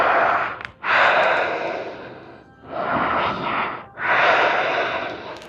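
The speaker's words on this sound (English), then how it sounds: "And breathe." Deep, slow breaths during an exercise class, three long drawn exhales and inhales in a steady rhythm, close and fairly loud with no talking.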